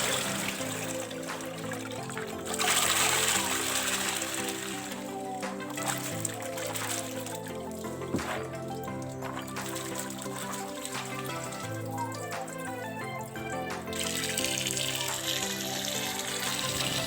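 Steamed potatoes and carrots rinsed under running water, a continuous close trickle and splash with light clattering as the vegetables are handled.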